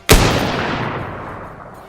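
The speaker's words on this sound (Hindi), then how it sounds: "फिर निशाना लगाकर ट्रिगर दबा देता है" A single loud bolt-action rifle shot cracks sharply, then rolls off into a long, fading outdoor echo lasting nearly two seconds.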